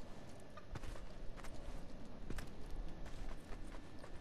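Character footsteps in Fortnite, with the Dali skin from the September Crew Pack: faint, steady light steps with occasional sharper taps over a constant background hum of game ambience.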